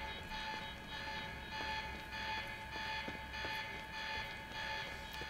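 An alarm blares steadily inside a facility in the video game Quantum Break, a continuous, tonal electronic whine sustained throughout with faint clanks and ticks beneath it and no voices.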